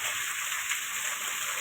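Rain falling outdoors, a steady bright hiss of drops with no distinct individual hits, fairly loud and continuous throughout, with no one talking.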